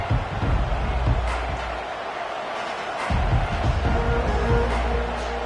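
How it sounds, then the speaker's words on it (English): Stadium crowd at a football game roaring in a dense, sustained wash of noise, loud and steady throughout with a short dip before surging again. "This crowd, full throat, splitting the eardrums"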